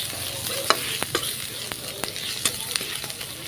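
Black cumin, garlic and dried chilies sizzle steadily in a pan, with sharp spoon-against-pan scrapes and taps at irregular intervals over the continuous frying hiss, close and fairly loud.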